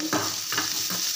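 Garlic cloves frying in a pan give a close, continuous sizzle broken by a few soft stirring scrapes; a brief moment with no talking.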